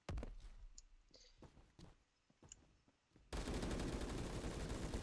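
Rapid gunfire in the video game Phantom Forces, an Uzi among the weapons: scattered sharp shots and clicks, then a dense, loud continuous burst of automatic fire filling the last seconds, with no talk.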